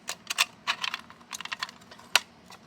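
A key turning in the lock of a Simplex fire alarm pull station, giving a close, crisp series of small metallic clicks and snaps with one sharper click near the end, irregular and alone.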